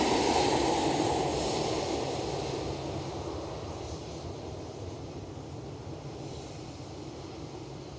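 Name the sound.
Transavia airliner at Schiphol Airport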